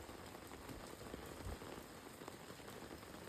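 Heavy monsoon rain pours down without pause in Navsari, flooding the area, a dense, even roar of drops hitting surfaces, somewhat distant and soft in level.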